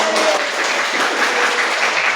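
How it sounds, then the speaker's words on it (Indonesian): Steady applause from a crowd, dense and continuous clapping throughout with no pauses, fairly loud and close. "tepuk tangan dulu buat"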